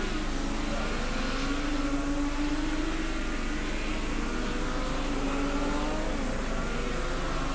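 Production motorcycles race at Oran Park, including a Yamaha FZ750, in a 1000cc production event: a continuous high-revving engine roar with shifting pitch, steady and loud throughout, mixed with broadband track noise.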